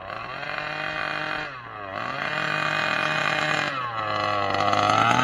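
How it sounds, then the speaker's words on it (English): Losi 5ive-B gas RC car with a heavily vented body, its small engine buzzing loudly and continuously, dipping twice as the throttle lets off and revving back up, with a dirt-bike-like rasp. "That sounds cool right there when I let off. Like a dirt bike or something."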